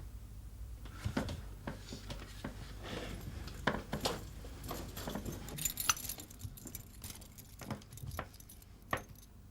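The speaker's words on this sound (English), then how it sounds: "your house keys and the like" A bunch of house keys jingles and rattles close by in an indoor setting, with repeated metallic clinks and shakes continuing throughout, and no talk over it.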